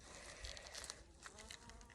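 Honeybees buzz densely around a hive holding a queen, a steady close swarm hum with faint crinkling and ticking, quiet but unbroken throughout.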